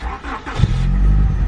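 A third-generation Honda Prelude engine cranks briefly and catches, settling into a loud, steady idle rumble close by.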